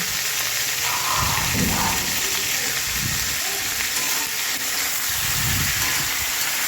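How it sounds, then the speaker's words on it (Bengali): Panch phoron spices, dried chillies and bay leaves frying in hot oil, giving a steady close sizzle and hiss with a few stirring knocks throughout. "তো এখানে আমি পাঁচ ফোড়ন শুকনো লঙ্কা আর তেজপাতা একটু ভেজে নেব"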